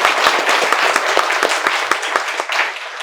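An audience claps for a few seconds, giving loud, dense applause with many overlapping hand claps that thin slightly toward the end.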